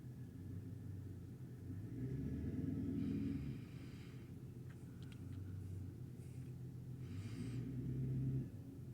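A pickup truck rumbling outside a house in Georgia, a low steady engine drone heard from indoors that swells and fades twice without voices.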